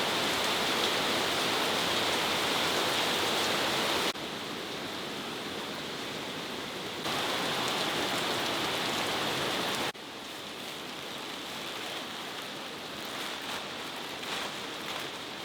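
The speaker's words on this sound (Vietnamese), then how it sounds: "Trời mưa hôm nay to quá." Heavy rain in a sudden storm pouring down around a home, a dense, steady hiss that holds at full strength throughout with a few abrupt shifts in level and no voices.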